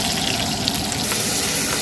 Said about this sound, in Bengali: তাহলে তেল গরম হয়ে গেছে, এবার আমরা দেবো হচ্ছে এখানে পেঁয়াজ